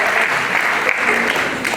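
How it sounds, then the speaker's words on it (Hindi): A crowd at a Hindi comic poetry stage show claps loudly and steadily, a dense close wash of applause with no talk. "एक बार जोरदार तालियां बजाइए मंच के लिए।"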